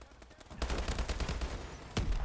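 Rapid gunfire in a Call of Duty Advanced Warfare multiplayer match, dense close bursts of shots rattling continuously for a couple of seconds, fairly faint overall.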